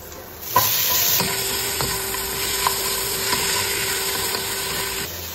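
Tomatoes added to a pan of sautéing garlic, a sudden sizzling hiss that steadies into a loud, close frying crackle with occasional sharp ticks of utensils.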